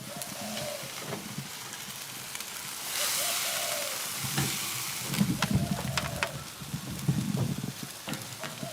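Fish sizzles on an outdoor Aussie barbecue grill with a steady hiss and crackle, joined by occasional scraping and clatter from cooking tools. The sounds are close and fairly loud, with no talking.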